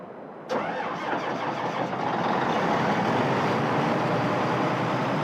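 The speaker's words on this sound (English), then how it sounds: "Let's take this tractor because I haven't driven it." A tractor engine in the video game Farming Simulator 2013 cranks and catches abruptly, then settles into a steady, loud rumbling idle.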